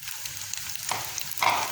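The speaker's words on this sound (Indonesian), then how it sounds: "saya masih mau lanjut goreng ya" Chicken nuggets fry in hot oil over medium-to-low heat as they begin to brown, giving a steady close sizzling hiss with a few brief louder crackles near the end.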